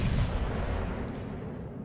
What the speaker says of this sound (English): Salvo on the Shima.